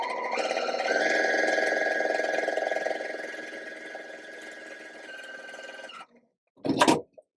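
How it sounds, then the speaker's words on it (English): A sewing machine stitches a seam on fabric for a Christmas star pillow, a close, steady whirring hum running for about six seconds before stopping, then a brief clunk. "Then we are going to sew directly on this drum line."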